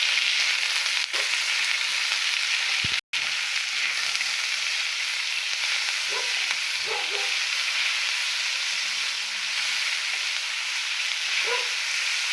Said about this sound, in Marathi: टमाटे टाकून घेतले, चांगलं भाजून घ्यायचं आता।